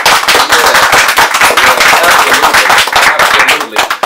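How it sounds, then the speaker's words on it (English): Lively clapping from a small group in a talk-show studio for the Jazz R Boyz, brisk, uneven claps that sound close and loud throughout, with some voices mixed in. "I want y'all to give yourselves a round of applause for doing what you're doing."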